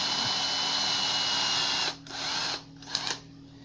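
Whining weak, nearly dead electric drill running steadily, then stopping and restarting in short bursts, close up with a buzzing motor tone.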